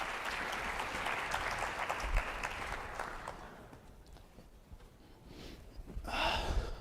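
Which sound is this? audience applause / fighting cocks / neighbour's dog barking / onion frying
audience applause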